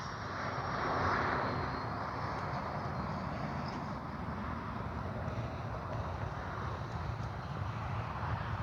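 A Freewing 80mm L-39 RC jet flying, its steady ducted-fan whoosh and roar holding loud and continuous throughout, swelling slightly near the start, with some wind noise.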